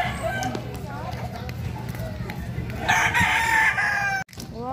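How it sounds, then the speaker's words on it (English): A chicken clucks and crows loudly over a bouncy children's song about walking and running, with voices and music throughout before a brief cut near the end. "Chicken."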